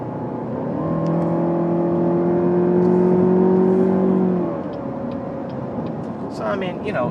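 Inside a 2014 Cadillac CTS 2.0T cruising on the highway, a steady engine and road drone swells slightly, then settles, with faint clicks and rustles near the end.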